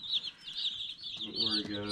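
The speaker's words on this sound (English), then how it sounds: "I wonder what they're thinking of all the chirping going on over here" Young meat chicks in a broiler brooder chirp in busy, high, overlapping peeps, with a brief clucking-like lower sound near the end.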